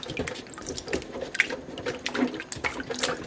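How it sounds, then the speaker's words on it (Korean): Cleaned lemons soak in water with baking soda, giving soft splashes, drips and light liquid sloshing, quiet and close, in short irregular bursts with no talk. "하나하나 닦은 레몬들은 물에 담가 베이킹소다를 넣고 방치해 둘게요."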